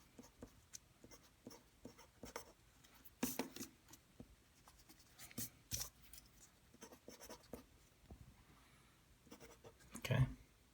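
A pen scratches and taps across paper while a diagram of cells is drawn by hand, making quiet, irregular scribbling strokes with a few sharper taps, faint and close.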